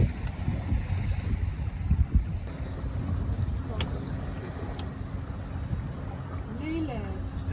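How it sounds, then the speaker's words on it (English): A sailboat underway in good wind on the water near Pampus, with heavy wind buffeting and low rumbling water noise throughout, plus faint creaks and a voice talking briefly. "First trip of the year. Sailing."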